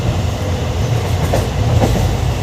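A moving Holi special passenger train bound for Darjeeling rolls along with a loud, steady rumble and rhythmic clickety-clack of wheels over rail joints.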